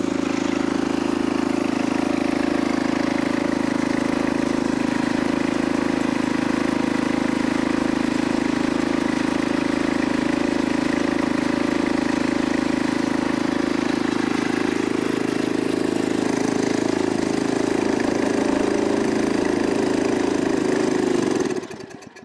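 Craftsman snowblower engine idling steadily while warming up in the cold, a loud, close, constant small-engine drone that runs unbroken before cutting off at the very end.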